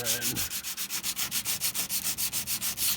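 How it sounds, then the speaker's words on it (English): Close, rhythmic back-and-forth sanding strokes on metal car body panels of a Fox body race car, rasping at a quick even pace throughout; a brief whine is heard at the very start. "Alright, so I'm going to finish sanding all this stuff down."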